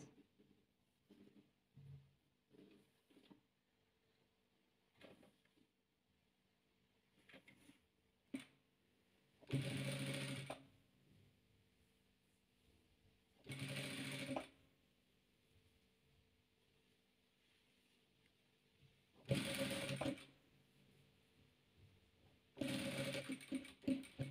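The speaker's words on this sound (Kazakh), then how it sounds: "Енді екінші жағына тігеміз." A sewing machine stitches patchwork fabric in four loud bursts of steady whirring, each lasting a second or two, separated by quieter handling and fabric rustling.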